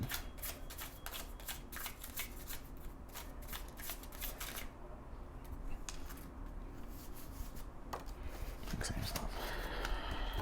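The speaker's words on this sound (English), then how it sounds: "Let's get a tarot card on this." Tarot cards are shuffled close by in a continuous run of soft riffling and sliding, with a brief lull midway and then denser shuffling toward the end.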